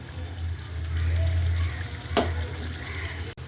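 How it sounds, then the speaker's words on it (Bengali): Onions frying in hot oil in a wok, a steady sizzle with a brief clatter of stirring midway, close by and alone. "আমি আগে তেলের মধ্যে পেঁয়াজ দিয়ে দিছি, কড়াই বসা রাখছিলাম"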